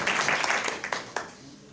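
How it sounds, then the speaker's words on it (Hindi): An audience applauds guest Manish Pal at a lecture gathering, a brief burst of clapping that quickly fades away. "जिनके लिए एक बार फिर जोरदार तालियां हो जाएं।"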